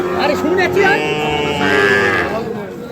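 Close, loud lowing from Sahiwal bull calves at a cattle market in Ambari, Dinajpur, one drawn-out moo followed by another, with a faint murmur of voices behind.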